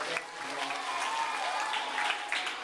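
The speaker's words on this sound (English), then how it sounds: "let's give him a round of applause." Children at a summer camp clap together in a brief, moderately faint round of applause, a scattered patter of small hands that holds steady for a couple of seconds.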